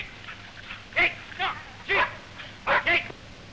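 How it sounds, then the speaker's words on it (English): Husky sled dogs in training for winter racing give about five sharp barks in uneven succession, moderately close, over a faint steady background hum. "the best of the dogs are out for a trial spin by way of training for the winter race season"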